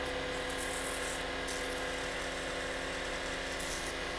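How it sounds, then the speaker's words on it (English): A wooden ring sanded with 150 grit sandpaper while spinning on a woodturning lathe, a steady faint motor hum with light hissing friction throughout. "I'll switch over to the 150 grit sandpaper"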